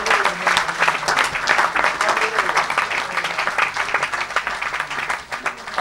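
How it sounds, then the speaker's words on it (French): A church congregation applauds and cheers for Jesus, with dense, sustained clapping that stays loud throughout and a voice talking over it. "Tu devais acclamer pour Jésus."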